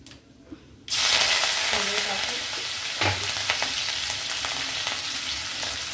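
Tempering spices and green chillies sizzle and crackle loudly in oil after a quiet start, with stirring sounds and brief bumps of utensils against the pan.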